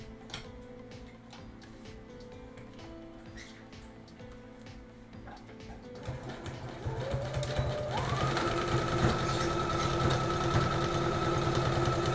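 A sewing machine sewing elastic into a dress, first ticking slowly and intermittently, then running up to a steady fast whirring hum that grows louder and continues to the end.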